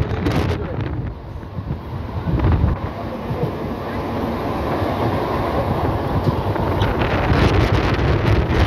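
A local train on the Howrah to Tarapith line runs steadily with a broad, continuous rumble and rattle, with wind buffeting throughout and a slight swell in loudness near the middle.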